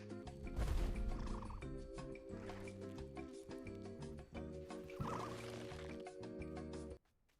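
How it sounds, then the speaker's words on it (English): In a dinosaur survival video game, a bird calls behind the player with a repeated gobbling, fowl-like sound. It is fairly loud and sits over a steady game soundscape with layered tones, then cuts off near the end. "Sounds like a bird's having an issue there behind us."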